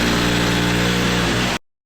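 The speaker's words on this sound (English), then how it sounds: "Let's do some drilling." Power drill boring upward into a basement ceiling, a loud continuous whining motor drone held steady for about a second and a half before cutting off abruptly.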